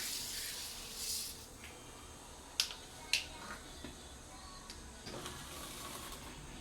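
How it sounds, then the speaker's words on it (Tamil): Mustard seeds dropped into lightly heated cooking oil give faint, scattered sharp pops and crackles, a few distinct snaps standing out above a quiet hiss. "எண்ணெய் லேசாக சூடானோன்னு கடுகு போட்டுக்கிறோம்"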